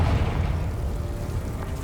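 A Confringo fire spell explodes in Hogwarts Legacy, a deep rumbling boom that stays loud and dense across the whole moment, with no speech over it.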